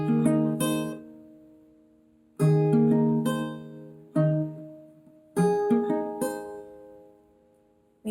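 A guitar plays the bridge of a song: four strummed chords, each ringing out and fading before the next, close and clear, with no voice.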